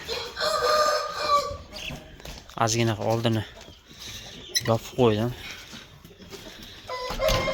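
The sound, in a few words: Korean rooster and turkey hens crowing and clucking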